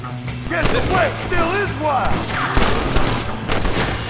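Rapid bursts of video game gunfire crackle through a busy firefight, repeated shots layered under several people talking over one another.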